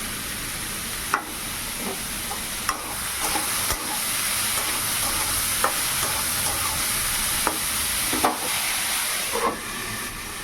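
Papaya frying in oil with black cumin, dried chilli, turmeric and salt, a dense continuous hiss and sizzle with occasional soft clicks of a spatula, close and steady, no voices.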